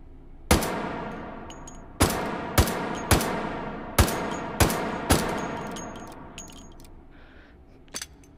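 Seven sharp gunshots from the VR game Hot Dogs, Horseshoes and Hand Grenades ring out at uneven intervals, each loud crack followed by a fading echo, with faint electronic beeps between them.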